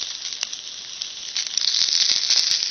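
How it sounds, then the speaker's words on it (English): Raw sausages sizzle on a griddle over a rocket stove built from a Freon tank, a steady close hiss that grows louder and crackles more densely toward the end. "Probably hear them sizzling."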